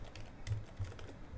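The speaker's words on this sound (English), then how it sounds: "So simply type here" Keys are tapped on a computer keyboard while entering a command in Windows 11, a short run of soft, quiet clicks at an uneven pace with no voice.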